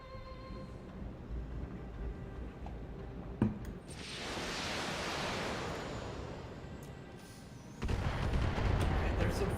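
Enemy artillery fire support landing in a BattleTech mech battle: a sharp crack, then a long rolling rumble of distant blasts that swells and fades, and another heavy burst of impacts toward the end.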